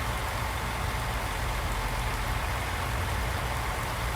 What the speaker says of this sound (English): this rain will not stop